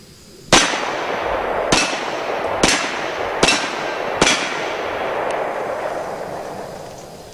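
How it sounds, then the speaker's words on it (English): Five sharp, loud shots from an AMT Automag 2 .22 Magnum pistol at an outdoor range, spaced about a second apart, each followed by a ringing tail as steel plates are hit. "So let's shoot some steel plates with this AMT Automag 2 and let another shooting show begin."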